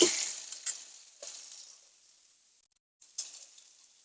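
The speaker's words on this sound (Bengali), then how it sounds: "বেগুনটাও দিয়ে দিচ্ছি। দিয়ে একটু নেড়ে চেড়ে নিয়ে এবার আমি মশলাগুলো দিয়ে দিচ্ছি।" Eggplant sizzles as it fries in a pan and is stirred with spices for a fish curry, loud hissing at first, then fading with a few scraping stir bursts and a brief pause before the sizzle returns.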